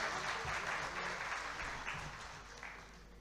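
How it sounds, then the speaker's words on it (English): A conference audience at an inaugural session applauds to welcome the chief guest, a soft, diffuse crowd clapping that sounds distant and fades slightly toward the end. "Please give a huge round of applause to welcome our chief guest."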